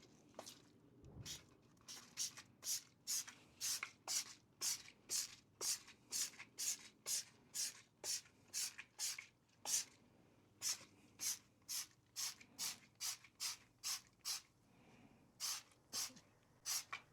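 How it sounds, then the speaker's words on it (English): Rapid, steady hiss-like bursts of a trigger sprayer or foam gun applying cleaner to car tires and wheels, close and regular throughout, over faint background noise. "I'm gonna foam the tires and spray the wheels"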